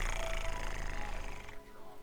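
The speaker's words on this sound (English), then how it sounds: "so she's purring" Glory the house cat purrs in the Choices game Wishful Thinking, a steady, close, rumbling drone that carries on evenly for about a second and a half before fading off.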